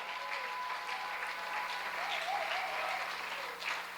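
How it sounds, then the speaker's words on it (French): A church congregation claps and cheers for the Lord in a steady, even wash of applause that lasts the whole stretch, fairly distant and moderate in level, with a faint voice rising briefly through it. "Est-ce qu'on peut acclamer très fort le We Seigneur?"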